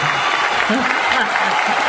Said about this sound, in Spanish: Sí, siguen aplaudiendo, sí, siguen aplaudiendo.